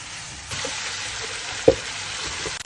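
Cauliflower and potatoes frying in hot oil, an even, dense sizzle with a few stirring knocks and one sharper clatter midway, close and steady with no speech.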